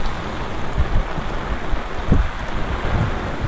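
Steady rain falling on a sailboat anchored at Chagos, a dense hiss with gusty wind noise and a few soft knocks against the boat, continuous and fairly loud, no speech.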